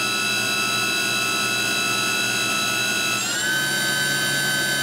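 A Kitamura Mycenter 1 vertical machining center spindle spinning up toward 8,000 RPM, a loud, steady high-pitched whine that steps up in pitch partway through.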